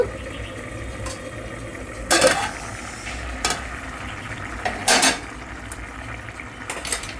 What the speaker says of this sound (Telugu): చూడండి చికెన్ ఎలా ఉడుకుతుందో చూపిస్తాను నేను మీకు ఇప్పుడు.